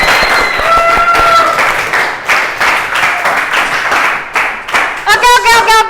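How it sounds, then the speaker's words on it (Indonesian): A classroom audience claps for students after their presentations, a dense burst of applause that fades out, followed by a short electronic musical jingle at the end. "tepuk tangan untuk kalian semua."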